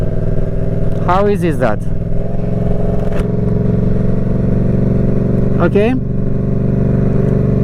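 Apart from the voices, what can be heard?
motorcycle accelerating and shifting gears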